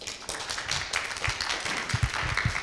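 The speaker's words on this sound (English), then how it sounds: "So let's give a round of applause to Aaron." Scattered applause from a meetup audience in the Rotunda PKO BP venue in Warsaw, a steady patter of claps lasting a few seconds at moderate level, with no talk over it.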